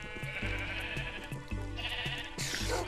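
Sheep in a Minecraft game bleating several times in a steady, wavering rhythm, close and moderately loud, with no talk over them.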